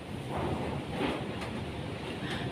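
Strong wind buffets a house, producing a steady broadband roar with gusty swells and rattling, close and loud throughout, with no voices.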